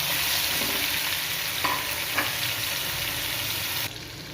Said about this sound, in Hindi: जो कीमा हमारा चिकन का बच गया था वो उसको मैं सबसे पहले इसके अंदर फ्राई कर लूँगी थोड़ा सा